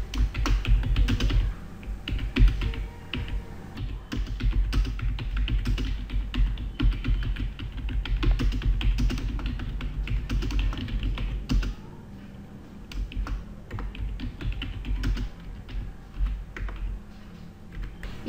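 Steady, rapid keystrokes on a computer keyboard as a paragraph is typed, dense clicking and tapping continuing for the whole stretch, close and fairly loud, with a slightly quieter patch near the end; no voices.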